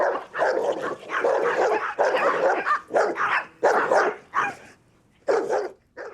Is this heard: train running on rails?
no